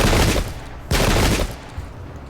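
Enemy musket volleys in the Pike and Shot battle game: two loud, dense crackling bursts of massed gunfire close together, each trailing off into a rumbling tail, and no voices.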